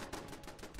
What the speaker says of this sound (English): The turrets are dealing with them.